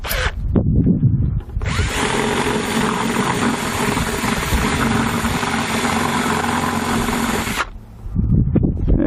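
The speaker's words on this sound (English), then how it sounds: "And there goes that drill again." A power drill bores into a plastic bucket while a low pressure valve is being made, a steady loud whine running about six seconds between short handling noises.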